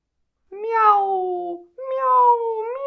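A human voice imitates a cat meowing during a spoken children's story, giving two long, wavering, close meows separated by a short pause.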